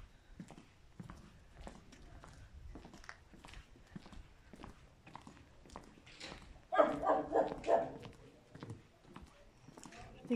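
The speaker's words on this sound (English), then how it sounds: "I think we woke up the dog." A dog barks in a short cluster of a few close, fairly loud barks outdoors at a rural guest-house property, with footsteps and a voice heard around it.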